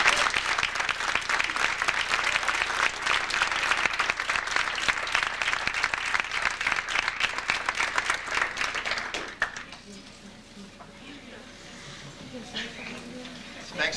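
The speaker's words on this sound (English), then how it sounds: "you may now applaud" Audience applause at a 1997 girls' high school basketball banquet, steady crowd clapping for about nine seconds that then fades out, with quieter room sound and a voice afterward.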